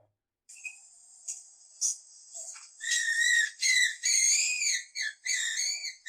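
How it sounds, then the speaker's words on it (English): A skunk gives high, thin whistling squeals and wavering squeaks, starting as faint isolated chirps and then building into longer, louder quavering cries in close succession, with no talk. "Oh, that's what a skunk sounds like?"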